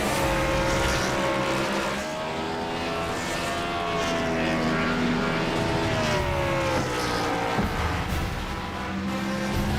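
Race cars in a NASCAR Cup Series iRacing session at Daytona roar continuously at speed, engine tones layered and shifting as the pack drones past without a break.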